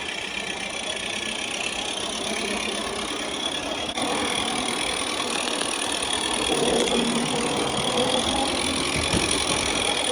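A Regner Lumber Jack live steam engine runs steadily in a continuous mechanical chuffing whir with a faint high whine, close by and unbroken, growing slightly louder toward the end.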